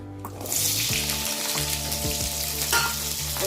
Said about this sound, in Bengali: তো আমি একটু লাল লাল করে ভেজে নেব